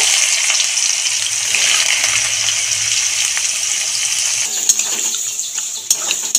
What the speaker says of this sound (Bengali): আলু ভাজা তেলের মধ্যে, গরম তেলের মধ্যে এবার গাজরটাও ভেজে নেব।